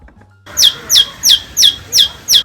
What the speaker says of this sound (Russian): Следующая птица называется тиеки.